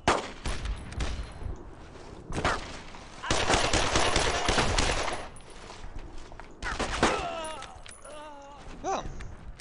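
Bursts of machine gun fire in the WWII shooter Brothers in Arms: Road to Hill 30, loud sustained volleys separated by brief pauses, with a few scattered shots and faint voices calling out toward the end.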